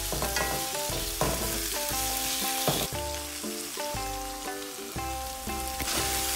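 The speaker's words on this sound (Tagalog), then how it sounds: "igisa lang din natin munang mabuti ang kimchi" Kimchi and chopped meat sautéing in a pan, a steady close sizzle and frying crackle with stirring scrapes, backed by continuous music tones throughout.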